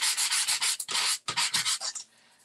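A Stampin' Up impressions die is sanded by hand with quick, close back-and-forth rubbing strokes in two bursts separated by a brief pause, the last strokes fading.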